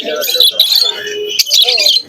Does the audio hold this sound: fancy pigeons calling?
yes